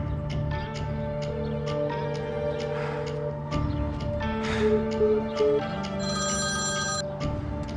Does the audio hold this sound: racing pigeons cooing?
no